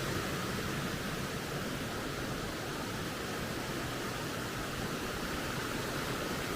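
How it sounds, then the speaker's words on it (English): A forest creek in the Joyce Kilmer Memorial Forest rushes below a parking area, a loud, constant broadband roar of flowing water with no breaks or voices. "this is the creek here below the parking area"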